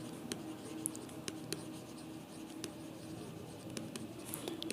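A pen scratches steadily across paper while accounting entries are written out, making soft, continuous scribbling with small ticks and taps at close range and no voice.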